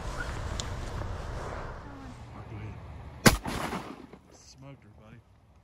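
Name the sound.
gunshots while duck hunting mallards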